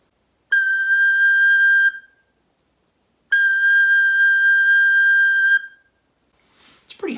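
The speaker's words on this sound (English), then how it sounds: "If I play just the fipple or the mouthpiece section of my recorder" A recorder mouthpiece blown on its own gives a steady, piercing high whistle-like tone in two sustained blasts separated by a pause, loud and close.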